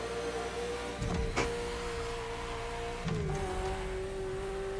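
Ferrari supercar in The Crew Motorfest, its engine droning steadily and fairly quietly while accelerating, with a couple of brief shifts in pitch and no talking.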